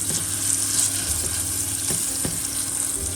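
Margarine and brown sugar heat in a pan with steady, loud sizzling, a continuous frying hiss with a few faint clicks and scrapes, no talking.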